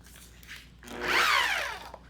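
A car buffer polisher with a firm pad and cutting compound runs at a low 600 RPM, its motor whine rising and falling over a couple of seconds, close and fairly loud, with no voices.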